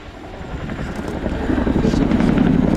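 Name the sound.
Chinook helicopter flying in air display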